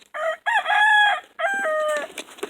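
A rooster crows on a homestead, two loud, close drawn-out calls with a short gap between them, heard alone with no talking.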